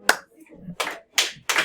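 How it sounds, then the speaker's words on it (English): Three weak hand claps in a classroom ring out in a short, uneven sequence after an initial sharp tap, each clap brief and fairly close, with quiet murmuring between them. "my claps were weak there"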